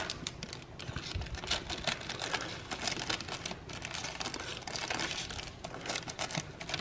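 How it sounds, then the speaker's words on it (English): Plastic wrapping on a Don Miguel beef, bean and cheese burrito being cut open, giving a steady stretch of close crinkling and rustling with small snipping ticks, no talk. "I'm just gonna cut this package open."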